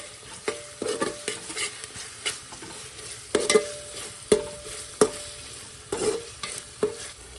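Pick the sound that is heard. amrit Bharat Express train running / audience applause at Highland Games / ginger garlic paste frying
ginger garlic paste frying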